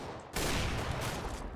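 Gunfire in the Counter-Strike: Global Offensive video game, a sudden loud burst of rapid shots that starts abruptly after a brief quiet moment and continues steadily to the end.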